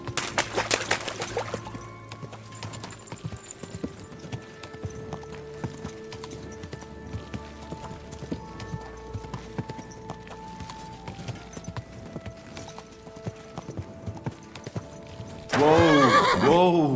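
Horse hooves clip-clopping and a horse neighing in the video game Kingdom Come Deliverance II, with steady hoofbeats under a soft musical bed and a loud whinny near the end.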